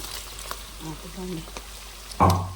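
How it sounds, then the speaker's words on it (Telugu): Chicken curry tipped into a pan of frying onions bursts into a loud, sudden sizzle near the end, after a quieter stretch where a voice speaks over faint crackling. "ఇప్పుడు కూర ఉల్లిపాయలు వేగిపోతుంది"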